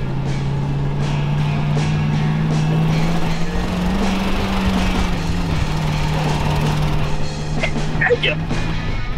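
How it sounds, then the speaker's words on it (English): Tracked skid loader climbing an icy, snowy hill, a steady loud diesel drone with a low engine hum and clanking track noise throughout, with a voice talking over it. "This tracked skid loader is gonna make it up it a lot better than Fred."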